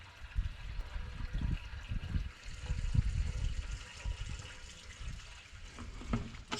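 Liquid pours in a soft, uneven gush from a container, the low splashing swelling and easing across the whole stretch, faint and close without voices.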